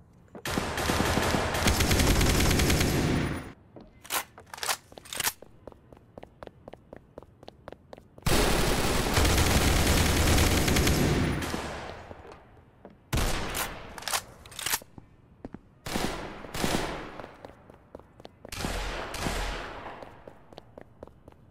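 AK rifle fire in the Roblox gun game, long sustained automatic bursts alternating with short rapid volleys and single shots, loud and close with brief gaps between bursts.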